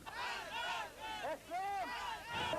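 A crowd in Tehran in 1990 chanting and shouting in unison to welcome Iranians expelled from Britain, with rising and falling massed voices that sound loud and continuous, slightly distant.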